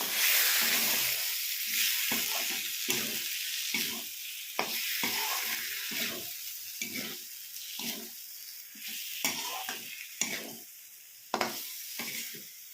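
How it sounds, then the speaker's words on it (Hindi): Eggplant sizzles in a pan of masala while a spoon stirs it, giving irregular scraping strokes and soft clatters over a steady, close frying hiss. No one speaks. "अब बैगन को मसाले में से मिक्स कर लेंगे।"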